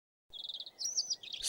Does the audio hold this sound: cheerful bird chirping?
yes